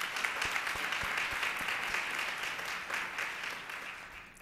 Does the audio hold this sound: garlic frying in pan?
no